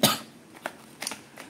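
A man coughs once sharply, then gives a few fainter throat sounds, close to the microphone and otherwise quiet.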